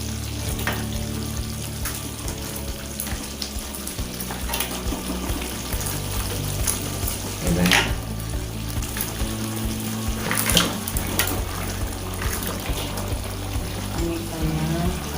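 Fried tilapia tumbles into a spice paste in a pan, with a busy sizzle and watery bubbling, scraping and stirring clatter throughout, occasional sharper clinks standing out over a steady cooking bed.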